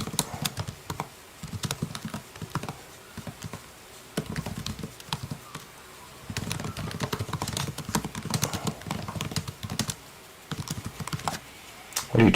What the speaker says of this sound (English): What are you typing away on?